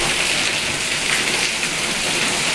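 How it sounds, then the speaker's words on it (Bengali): Heavy rain pours down in a steady, dense, close hiss that stays even from start to finish, with no other sounds over it. "আর এদিকে জোর বৃষ্টি চলছে।"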